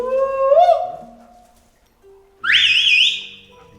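Two loud, sharp whistles from a hiker trying to reach the rest of the group on a rough trail in Turkey, the first a rising note that fades out and the second a higher, warbling blast after a pause.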